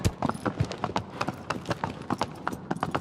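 Horse hooves galloping across a windy plain in the video game Shadow of the Colossus, a quick, rhythmic series of sharp clip-clop beats repeating steadily and close for three seconds.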